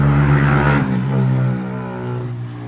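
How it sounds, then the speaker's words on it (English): A motorbike engine roars close by, loud at first with a revving growl, then easing off as it moves away. "excuse the noisy motorbike"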